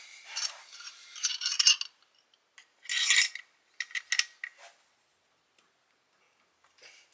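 Tools working on the valve adjusters of a Volvo 140 engine, with close, sharp metallic ticks and clicks in short bursts separated by quiet gaps.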